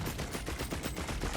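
Turrets in Risk of Rain 2 fire a fast, continuous stream of shots at close range, a dense rattling burst with no speech.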